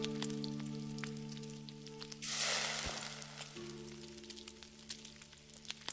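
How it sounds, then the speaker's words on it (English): Sizzling while cooking in the video game Enshrouded, a short hissing fry burst in the middle rising over steady humming game music and tones, then fading back. "you hold it down till it does that sizzling sound"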